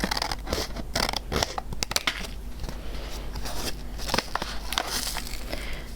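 A seed-starting container top is cut open, giving a close, crackling, creaky rasp of plastic that continues steadily for several seconds, with a few sharper snaps along the way.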